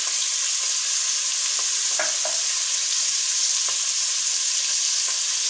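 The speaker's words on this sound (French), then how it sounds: "3-4 minutes suffisent largement pour cuire une crevette." Shrimp frying in a pan for a festive endive starter, a steady loud sizzle throughout with a few faint clicks and stirring taps, close up and with no voices.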